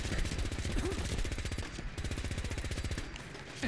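Automated turret in Fallout 4 firing rapid, continuous bursts of gunfire, loud and close, with a brief lull in the middle before the shooting resumes.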